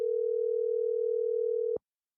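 A steady telephone dial tone hums alone for close to two seconds as a call is being placed, then cuts off abruptly, leaving silence.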